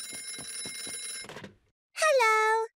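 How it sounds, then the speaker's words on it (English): A cartoon telephone rings in a bright electronic chime that repeats in short pulses, then stops briefly before one longer sustained tone follows, close and clear with no talking. "Oh, it's the phone."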